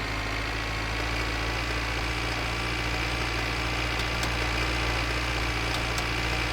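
An old project car's engine idles in the video game My Winter Car, a steady, loud low hum with a faint knocking rumble that holds unchanged throughout, no voices.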